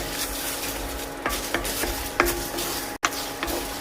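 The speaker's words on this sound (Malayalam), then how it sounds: "മുളകും കൂടി ഒന്ന് ഡ്രൈ റോസ്റ്റ് ചെയ്തെടുക്കണം" Chillies stirred in a dry pan while roasting for chicken rasam, with spoon scrapes and light clinks against the metal over a steady soft sizzle-like hiss, several sharper knocks spaced through, no talking.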